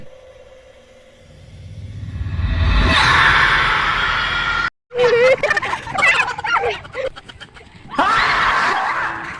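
Farm chickens cluck and squawk loudly and close by in a rural setting, rising to a dense burst, cutting out briefly, then resuming in irregular bursts with a possible voice mixed in.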